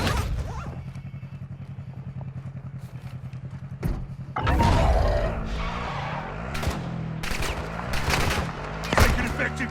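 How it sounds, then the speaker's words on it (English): Gunfire from the Call of Duty game, with a steady engine-like rumble first, then loud close bursts of shots and impacts, while a voice speaks at points. "Taking effective fire. Taking fire over here."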